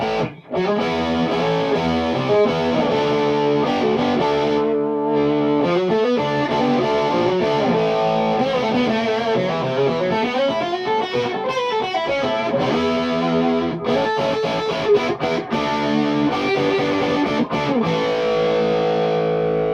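An electric guitar played through a Metropoulos Metro-Plex amp in the low input jack, giving a continuous distorted tone with ringing chords and melodic runs that stay loud and full throughout.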